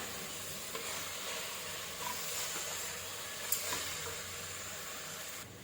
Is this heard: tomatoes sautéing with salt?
yes